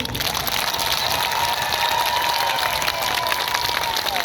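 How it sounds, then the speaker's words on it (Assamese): Audience at a public gathering in Sivasagar, Assam, clapping together in a dense, continuous burst of applause that holds steady for a few seconds, loud and close, with crowd murmur underneath. "মই সকলোকে একেলগতে হাত তালি বজাবৰ কাৰণে অনুৰোধ কৰিছোঁ।"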